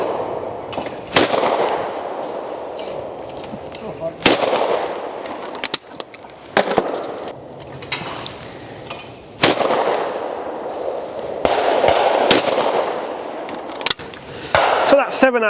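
Shotgun fire from an ATA sporter at clay pigeons on a shooting ground: a series of loud, sharp blasts in quick pairs, each followed by a short ringing tail, with talk between the shots.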